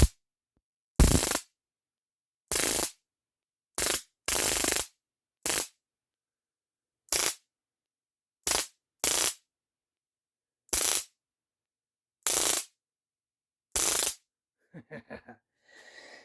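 Loud, sharp discharges from a Byrna TCR less-lethal launcher with a stun under-mount attachment, about a dozen separate bursts fired at irregular intervals, ending with a few faint clicks.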